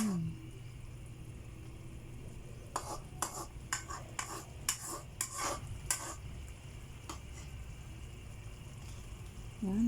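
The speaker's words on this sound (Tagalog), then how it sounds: "Yan, haluin natin mga loves." A spoon stirs squid adobo in a pan, with a series of scraping, clinking strokes in the middle over a low steady sizzle, close and with no voices.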